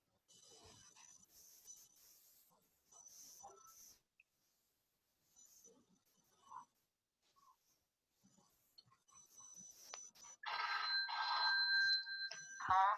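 Telephone ringing, bursts of faint electronic ringtone tones spaced by quiet gaps, then a louder, sustained ring near the end, with soft whispering and breathing between.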